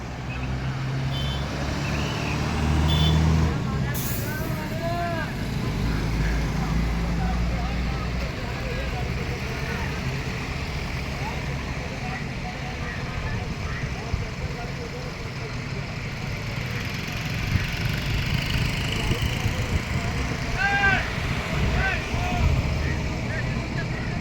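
A Nashik–Malegaon bus moves along the shut-down Malegaon–Chandwad highway, its heavy diesel engine rumbling and idling throughout, with a couple of short horn toots and people talking nearby.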